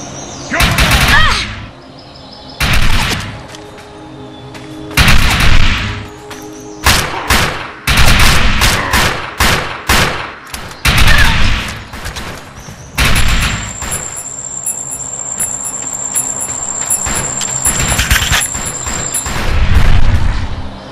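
Gunfire in the Defiance shooter game: loud repeated bursts of automatic fire and heavy booming shots in irregular clusters, separated by short gaps, with mechanical clatter and a high electronic whine in the later part.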